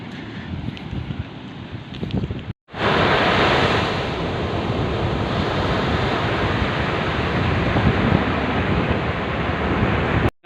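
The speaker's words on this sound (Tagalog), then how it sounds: "nag-uumpisa na oh ay grabe ang lalaki ng alon ha" Large ocean waves crash and roar continuously at Paoay, Ilocos Norte, loud and close, with wind buffeting the microphone and a brief cut near the start.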